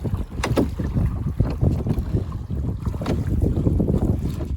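A rowing boat pulls against the wind on Rollesby and Ormesby Broad in Norfolk. Steady, close wind buffeting and water wash run throughout, with no talking.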